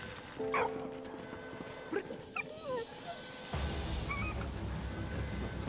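A dog in the video game Soldats Inconnus whimpers and yips in short, high, wavering cries over a steady wash of background noise, which grows louder partway through.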